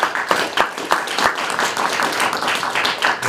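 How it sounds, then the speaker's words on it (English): An audience at a school committee candidates' night in a high school applauds the three candidates, a steady round of clapping with a few sharper claps, fairly close and without talk over it. "If we can give them a round of applause."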